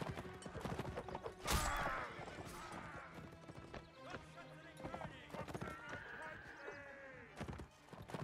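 Hooves clip-clop repeatedly during a Napoleonic Wars multiplayer line battle, with a horse whinny and battle noise under ongoing voice chat.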